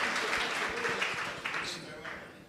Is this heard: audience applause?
yes